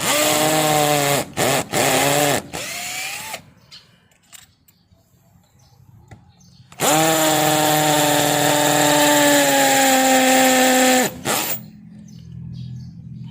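A power drill bores into a concrete wall for an anchor in two loud, sustained whining bursts, each several seconds long, with brief starts and stops between them and near silence in the gap.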